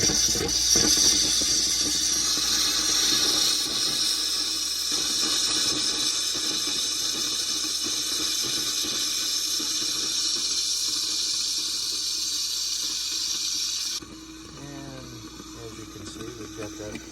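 Water gushes and hisses steadily from a low point drain on an Alpine RV being winterized with compressed air, a broad continuous splashing that runs loud for most of the stretch before dropping to a quieter trickle near the end.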